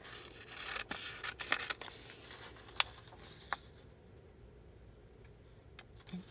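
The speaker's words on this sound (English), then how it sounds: "And I'm gonna cut it across." Scissors cutting across paper taken from an old book, a series of close, quiet snips and rustling cuts spaced irregularly over a soft background hiss.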